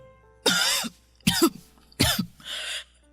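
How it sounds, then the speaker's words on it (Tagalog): A woman coughs heavily and hoarsely, three loud close barks with short gaps between them, followed by a fainter raspy exhale. "ang tindi ng ubo niyo."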